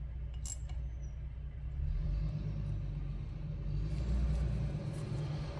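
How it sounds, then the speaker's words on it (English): A tow truck works nearby while picking up a car, giving a continuous low engine rumble that grows slightly louder midway, with a few faint metallic clinks and no talk. "There's a tow truck here picking up a car"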